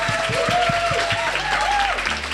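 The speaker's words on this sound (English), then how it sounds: "I'm going to start with another big round of applause for you guys" Live podcast audience applauding, a dense wash of clapping filling the moment, loud and steady, with a voice talking over it.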